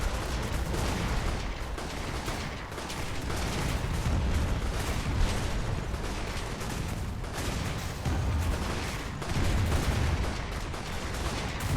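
Airship cannons firing in the game Airships: Conquer the Skies, a dense, rumbling barrage of booms that rolls on without a break at moderate volume, with no voices.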